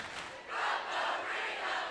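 A packed gym crowd at the Owensboro Sportscenter roars after Grayson County's 81-59 3rd Region basketball championship win, a loud, sustained wash of cheering and yelling that swells in waves.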